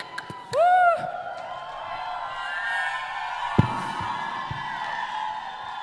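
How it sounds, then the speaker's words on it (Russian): A live concert audience at a show in Kyiv applauds and cheers between songs, a steady wash of crowd noise with a sharp rising whistle near the start. "Аплодисменты."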